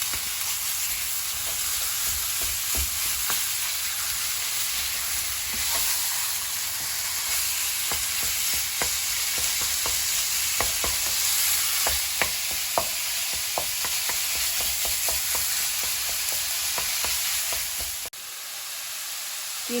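Beef mince sizzles steadily over high heat in garlic and ginger paste, with a constant frying hiss and scattered scraping clicks of stirring throughout, close and fairly quiet, with no one speaking.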